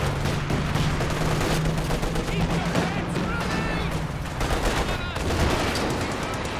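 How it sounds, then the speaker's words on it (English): Creeping barrage artillery fire in Company of Heroes 2, a 2v2 match, with dense overlapping shell blasts and gunfire rumbling continuously, loud and busy throughout. "He's using the creeping barrage on it."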